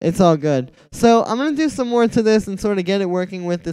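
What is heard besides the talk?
No everyday noise stands out behind the speech.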